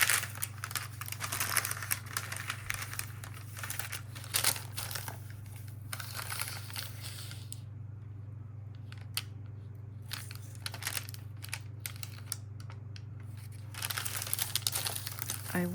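Wax paper being handled for a junk journal spread, with intermittent crisp crinkles and rustles in bursts separated by quiet stretches over a steady low electrical hum, close to the microphone.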